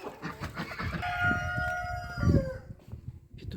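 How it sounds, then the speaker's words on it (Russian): A rooster lets out one long, drawn-out crow in a farmyard on a rainy, icy day, fairly near and clear over faint background noise. "Петухи наперебой поют."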